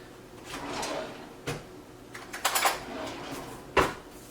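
A kitchen drawer slides open and closed, followed by metal cutlery clinking and rattling as a spoon is picked out, a few sharp clacks close by in a quiet room.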